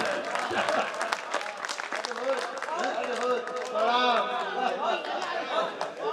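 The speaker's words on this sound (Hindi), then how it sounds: "तालियां कमजोर हो जाती हैं" An audience at a Hindi poetry gathering (kavi sammelan) in Chakia gives scattered, fairly light applause. Crowd chatter and talking voices are mixed in throughout, and the clapping rises and falls over about six seconds.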